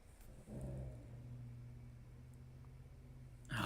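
A husky puppy lets out a soft, drawn-out howl in its sleep, a faint low moaning tone held for a few seconds in a quiet room before a brief rustle.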